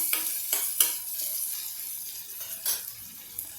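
Chili pieces fry in brinjal bharta in a pan, a soft steady sizzle broken by a few stirring scrapes and light clinks, close and moderately quiet, with no voices.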